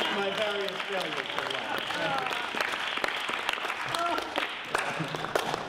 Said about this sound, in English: Thank you for applauding my various failures.